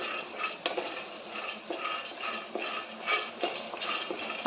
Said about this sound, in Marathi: शेंगदाणे चांगले खमंग भाजत आलेले आहेत